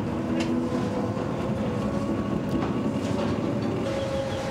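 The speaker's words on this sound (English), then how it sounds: "the miners board a train that travels a further 4 miles into the dark" An underground mine train carries miners more than 800 metres below the surface, a steady rumbling roll with faint rail clicks and squeals, continuous and fairly loud throughout.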